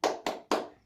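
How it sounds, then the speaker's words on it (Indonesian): Three sharp group claps in a quick, even rhythm, each decaying briefly before the next, from a cheer clap led among mothers at a family welfare program session. "Berikan tepuk hebat untuk ibu-ibu semua."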